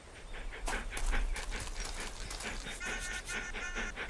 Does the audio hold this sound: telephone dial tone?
no